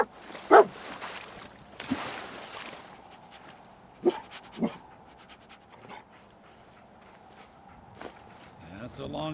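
Dogmeat, the dog companion in Fallout 4, pants softly in short rhythmic breaths under faint footsteps and a steady background hum, with a few sharper bumps and rustles along the way.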